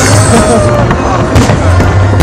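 New Year fireworks explode on a riverside embankment, loud dense cracks and booms overlapping with crackling and crowd noise, with people talking nearby throughout.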